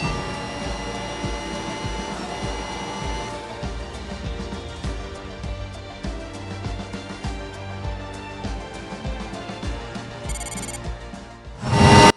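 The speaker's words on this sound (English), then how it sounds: "Finally, here's the music when you finish a race." Upbeat electronic race-finish music from the video game F1 Mobile Racing plays with a steady beat and bright synth stabs, ending in a sudden loud burst.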